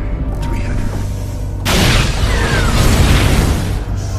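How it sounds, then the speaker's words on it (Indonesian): A sudden loud boom of a car explosion in a film bursts out mid-clip, followed by a rumbling, crackling roar that slowly settles. "tiba-tiba di luar penjara sebuah mobil meledak"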